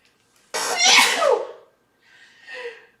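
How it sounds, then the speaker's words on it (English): A single loud, close sneeze bursts out, followed a moment later by a softer exhaled sound. "I feel like I'm gonna sneeze."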